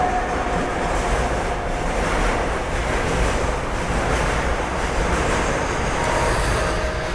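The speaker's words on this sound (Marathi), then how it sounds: "डब्ल्यू जी ट्वेल्व मालगाडी घेऊन" A WAG-12 electric locomotive hauls a goods train through Hadapsar station in Pune, with a steady loud rumble of wagons rolling past close by and no break across the whole stretch.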